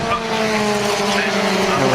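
Historic Formula Ford race cars at Brands Hatch climbing the hill toward Druids, engines buzzing loudly and continuously with rising and falling pitch as the pack passes close by, under a commentator's voice.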